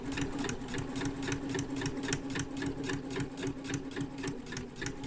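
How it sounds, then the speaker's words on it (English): Sewing machine stitching a zipper purse, a fast, even train of needle thumps over a steady motor hum, close and continuous throughout. "You're just going to continue sewing until you get to the very end."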